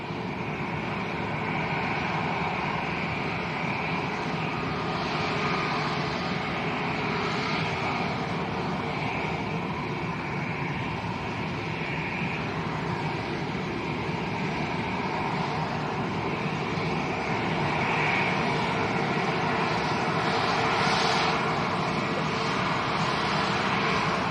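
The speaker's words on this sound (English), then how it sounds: "Binter ATR taxiing out as well" A Binter ATR turboprop taxiing at Lanzarote Arrecife Airport, giving a steady, loud propeller and engine drone with a high whine that holds throughout, without any talk.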